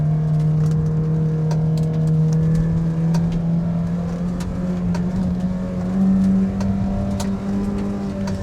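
A Porsche 944 pulls hard in second gear along a straight road, its engine tone climbing steadily and loud from inside the car, with no talking.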